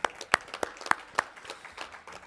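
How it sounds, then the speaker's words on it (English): A small audience at a bladder cancer care event gives scattered, faint applause, with a handful of distinct, uneven claps that thin out quickly. "a big applause for Stephanie and Beacon."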